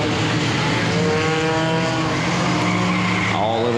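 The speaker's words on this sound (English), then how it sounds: "Mike Staples trying to march to the top spot here down the back straightaway in the turn number 3." Four-cylinder race cars roar around the Lonestar Speedway oval, engines droning loudly and continuously with shifting pitch as they run down the back straightaway into turn three.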